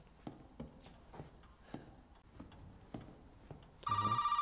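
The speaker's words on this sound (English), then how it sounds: "You frickin' phone!" Telephone ringing in the Resident Evil 7 video game, a sudden loud electronic ring that starts near the end, following several soft, spaced footsteps on a quiet background.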